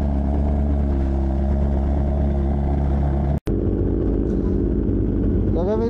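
A Yamaha R1 sportbike engine idles with a steady, deep throbbing rumble up close, briefly cutting out before resuming, then rising slightly in pitch near the end; a voice talks over it.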